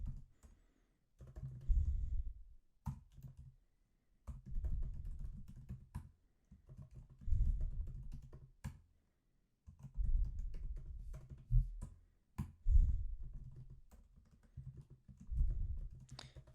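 Someone types on a computer keyboard while filling out a web form, producing close, quiet bursts of rapid key clicks separated by short pauses, with no speech.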